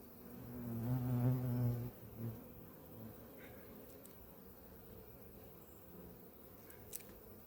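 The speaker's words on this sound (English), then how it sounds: "Quite a few bees in here." Honey bees in an apiary hive drone in a steady, close buzz that swells loudly over the first two seconds, then settles into a softer continuous hum with a few faint clicks.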